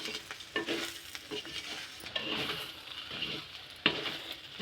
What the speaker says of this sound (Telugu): బెండకాయ ముక్కలు వాటిని పైనుంచి కిందకి పైనుంచి కిందకి కిందకి పైకి జైంట్ వీల్ లాగా తిప్పుతా వాటిని